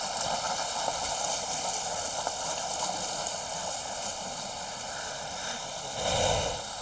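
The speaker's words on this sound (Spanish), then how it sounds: "Y de fondo tenemos una cascadita." A small waterfall at the Yanacocha Reserve, near a short tunnel, gives a steady, even rushing wash that fills the whole stretch with no voices over it.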